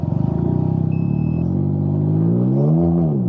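A Can-Am Ryker engine revs while reversing with the throttle limited, a loud close rumble whose pitch holds steady, then swells and rises before settling back down.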